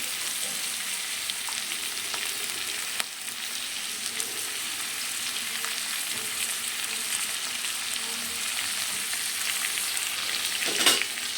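Onion and tomato fry in a pan for capsicum vangi bath, a constant even sizzle near the mic with faint scrapes of stirring and a louder clatter near the end, no one talking.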